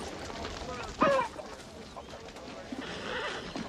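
A horse gives a short, loud neigh at close range, with hooves shuffling and faint ambient noise around it and people talking nearby.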